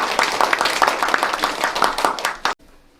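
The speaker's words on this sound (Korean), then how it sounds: "박수 부탁드리겠습니다." Audience applause at a debate forum on creating jobs through e-commerce, hosted by a young entrepreneurs' association in Dangjin: a dense burst of many hands clapping fills the room, then cuts off sharply into near-silence.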